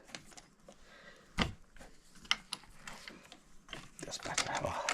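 A Douglas fir bowl blank is fitted and tightened onto a wood lathe chuck, making close ratcheting clicks and metallic clunks in an irregular sequence with occasional speech.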